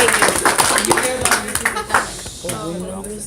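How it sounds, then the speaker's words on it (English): An audience at a junior high school ball claps briefly, a spatter of applause mixed with talking and crowd noise that fades after a few seconds. "Come on, give him a round of applause to Mr. Rodriguez."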